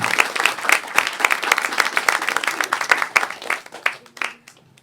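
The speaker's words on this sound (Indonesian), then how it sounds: "Boleh minta tepuk tangan buat nyokap gue." Steady audience applause and cheering at a stand-up comedy special, a full, continuous roar of clapping that tapers off at the end.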